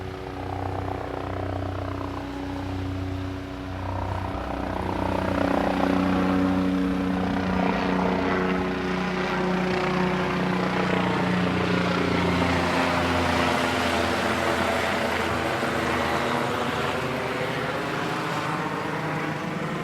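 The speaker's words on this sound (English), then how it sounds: "Here comes a chopper." A helicopter's steady rotor drone over Puerto Rico beaches fills the air throughout, loud and continuous, its pitch slowly shifting as it passes overhead.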